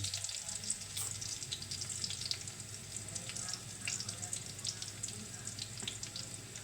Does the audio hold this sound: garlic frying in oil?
yes